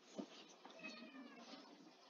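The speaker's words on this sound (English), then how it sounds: "But she's meowing." A cat meows at a campsite, one short cry followed by a softer, drawn-out whine, fairly close and faint.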